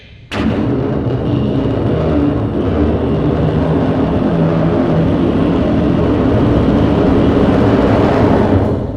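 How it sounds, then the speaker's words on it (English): A sudden, massive roar begins almost at once and holds steady, a dense rumbling blast like a rocket engine at liftoff, loud and unbroken. "The sound of the takeoff was like the roar of 100 jet engines"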